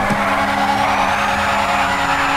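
Furore GT sports car in GTA 5 squealing its tires in one loud, continuous screech with engine roar underneath, steady throughout with no talking.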